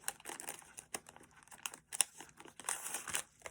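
Tiny white paper gift bags, about 2.5 by 4 inches, handled up close: quiet, irregular crinkling and rustling with small crisp taps and bursts of paper noise throughout.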